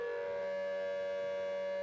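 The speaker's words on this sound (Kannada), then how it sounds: "ಎಲ್ಲಿ ನೋಡಿದ್ರಲ್ಲಿ ಸೈರನ್ ಮೊಳಗ್ತಾ ಇದೆ." An air raid siren wails at a steady pitch, faint and distant, during attacks on Rajasthan's Pokharan area, sustained throughout with no other sound over it.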